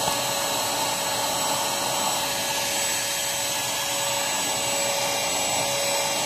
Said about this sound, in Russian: пылесос берет сложнее